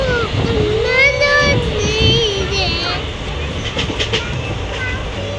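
A passenger train running through hilly country past Khammam, a loud steady rumble heard from on board with rising and falling whistling tones over it, and no clear talk.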